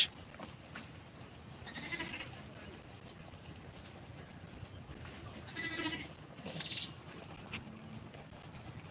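Sheep bleating in intense heat at a wetland area in Rangpur, a few short bleats rising over quiet outdoor background noise, heard at moderate distance without clear talk.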